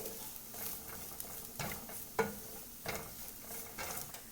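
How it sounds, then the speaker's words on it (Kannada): Grated coconut frying in a pan over medium flame, a soft sizzle broken by repeated scraping stirs of a spatula in an uneven rhythm, close and fairly quiet. "ಈ ತೆಂಗಿನಕಾಯಿ ತುರಿಯನ್ನು ಮೊದಲು 2 ನಿಮಿಷದಷ್ಟು ಹೊತ್ತು ಹುರಿಯುವ"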